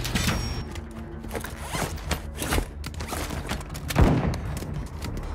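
Gunfire in the Call of Duty video game, rapid cracking shots and mechanical clatter running throughout, loud and close with a heavier burst near the end.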